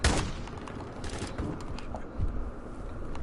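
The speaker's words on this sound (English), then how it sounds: "I heard some dude over there banging with a shotgun" Shotgun and other gunfire in the Call of Duty MW2 beta: a loud opening blast followed by a rolling volley of shots and booms, heard with no talking.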